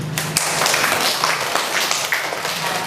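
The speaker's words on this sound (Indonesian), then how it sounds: "Coba tepuk tangan dulu." A group of children clap hands together in a quick, uneven patter, fairly close, lasting a few seconds.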